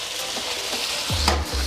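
Chicken chow mein scraped and stirred with a spatula in a wok, giving a few close scraping strokes near the end over a soft background hiss, with no talking.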